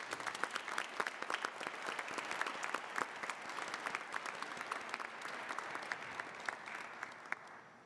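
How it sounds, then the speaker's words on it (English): Audience at a December graduation recognition ceremony applauds award winners, with sustained crowd clapping in a large room and scattered distinct claps rising above the wash before it tapers off. "Please join me again in applauding the achievements of all of our award winners"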